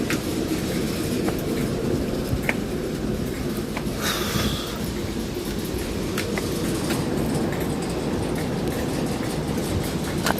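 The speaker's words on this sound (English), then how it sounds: "It's a nice train. The Elizabeth line." An Elizabeth line train passes close by a footbridge in the woods, with a steady loud rolling rumble of wheels on rail, rhythmic clicks and a brief squeal midway.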